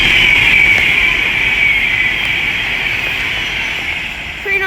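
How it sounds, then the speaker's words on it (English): An Avanti West Coast Class 390 electric train rushes past on the West Coast Main Line at Leighton Buzzard, a loud, steady roar with a high hiss that slowly fades toward the end. "The next train to pass by is going to be an Avanti West Coast class 390."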